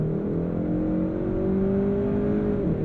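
A 2022 Kia K5 GT's turbocharged engine pulls hard through the gears with its dual-clutch gearbox, heard from inside the cabin as a steady rising drone with harmonics climbing in pitch and a brief drop near the end as a shift lands.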